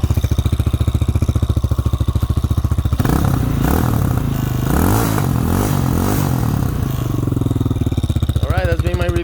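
A 2023 Taotao TBR7D dirt motorcycle idles with a steady putter, then its engine is revved up and down through several rising and falling swells before settling back to idle. The sound is close and loud.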